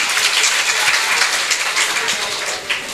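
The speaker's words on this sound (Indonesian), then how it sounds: "Tepuk tangan buat mereka." Audience applause at a high school final event in Kediri: a thick wash of clapping from a crowd, strong and steady, easing slightly near the end.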